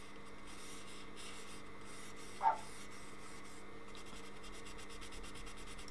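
Rubbing the circuit board tracks of a Fluke 189 multimeter to clear oxidation, a faint, close, steady scratchy rasp with one brief sharper scrape midway and a quicker rubbing rhythm near the end.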